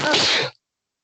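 A single sharp sneeze, loud and close, bursting out and cutting off abruptly after about half a second, followed by silence.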